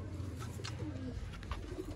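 A teddy pigeon coos softly at close range, low throaty murmurs over a steady background hum, no speech.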